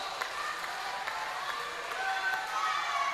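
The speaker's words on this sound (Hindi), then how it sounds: "एक बार दोनों हाथ उठाकर तालियों की गड़गड़ाहट से बताएं कि आप सुन रहे हैं कविता" Sustained applause and cheering from a large audience at a Hindi poetry recital, a dense, steady wash of clapping with scattered whoops and no break.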